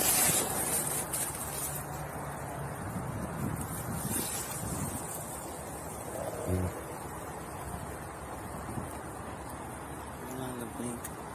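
Outdoor wind buffets a microphone in a broad, steady rush with gusty surges, loud and close throughout, while voices talk faintly underneath.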